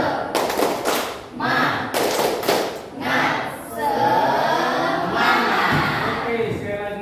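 A school class claps in rhythm for a spirit cheer, with bursts of synchronized hand claps and thumps mixed with group voices, while a teacher's voice leads over the clapping.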